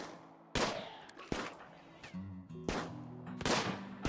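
Colonists shoot in the Rimworld video game, giving several sharp gunshot bursts at irregular intervals over a quiet background with faint tonal game sounds.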